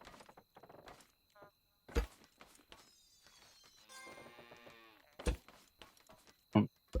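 A cow-like farm animal in the video game Scrap Mechanic gives a drawn-out bleating moo mid-way, moderately close, between scattered clicks and thumps, with someone talking.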